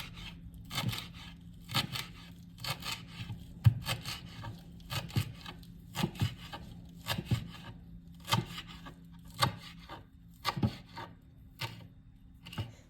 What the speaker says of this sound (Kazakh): Енді азғантай ғана петрушкамызды турап аламыз.